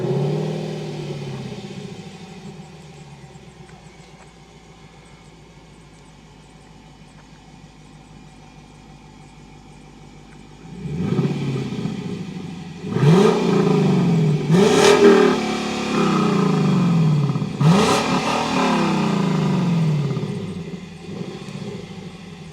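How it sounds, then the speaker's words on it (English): A Lexus LC 500 V8 with active exhaust idles at a low rumble, then revs several times in loud, rising blips that swell and fall back, heard up close outdoors. "This is also an active exhaust system, and it sounds absolutely phenomenal."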